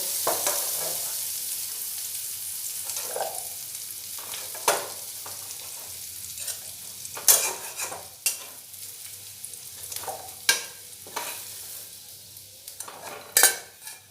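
Potatoes fry in a pan with salt and turmeric, a soft steady sizzle overlaid by intermittent sharp clinks and scrapes of a utensil against the pan, close up and without voices.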